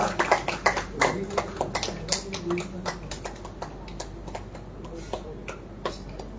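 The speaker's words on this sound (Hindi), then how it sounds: "तो तालियों से जोरदार तालियों से स्वागत कीजिए निधि नीर जी का" Applause at a Hindi poetry recital and award ceremony as a poet takes the stage, scattered sharp claps fading to sparse taps, moderately close with faint voices underneath.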